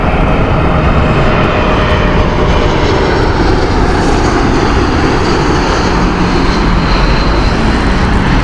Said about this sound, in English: Next we have inbound Air France, and it should be the beautiful Airbus A220.